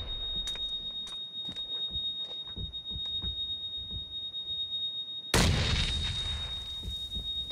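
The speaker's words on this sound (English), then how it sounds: "That's a nade. Stun grenade," A stun grenade detonates in a shooter video game: scattered light taps and clicks give way to a sudden loud, harsh burst, with a steady high-pitched ringing tone through the clip.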